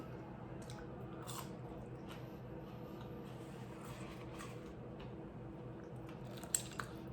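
Curly fries being chewed close to the mic, soft squishy bites repeating irregularly over a quiet background, with one sharper crunch near the end.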